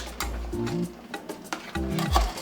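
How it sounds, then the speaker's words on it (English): Spoon gently stirring Ghanaian okra soup with mackerel and shrimp in a pot, soft scraping and thick liquid movement with a few low clunks against the pot, close and fairly quiet. "just stir it just a little bit, because you don't want to smash, you know,"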